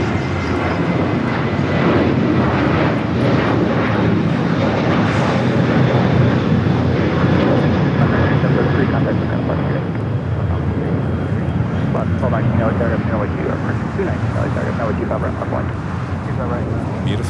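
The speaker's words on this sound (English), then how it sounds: "Next takeoff is Sun Country Airlines, flight 8733, a sports charter heading to Houston, Texas" Boeing 737-800 jet of Sun Country Airlines taking off at Los Angeles International Airport, a steady loud engine roar filling the whole span without a break.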